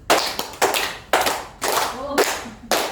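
Hands clapping in a set rhythm at a school teacher-training session: two sets of three sharp, close claps, crisp and fairly loud with no talk over them.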